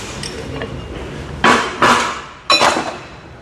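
A brake rotor comes off a car hub during brake work, giving three sharp metallic clanks about a second apart, close and fairly loud over a faint background hum.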